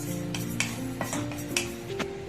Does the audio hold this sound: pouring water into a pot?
no